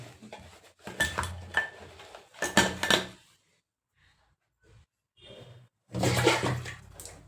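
Steel lunch-box containers being packed, clinking and clattering in close bursts with short quiet gaps between, a final louder rattle at the end.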